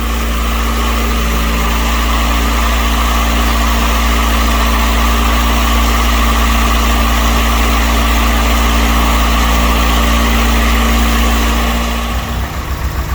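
A Saturn S-series with a rear-mounted turbo engine idles right after its first start, running rich with a slight warm-up oscillation; a loud, steady drone holds throughout, then dips near the end.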